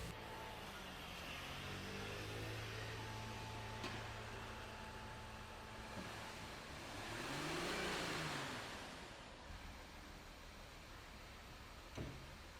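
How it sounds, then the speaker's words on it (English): An Audi A6 engine, smoking badly and jerking, is revved once: the idle rises into a smooth swelling rev and then settles back, loud and close, with no talk. "Give it some gas real quick."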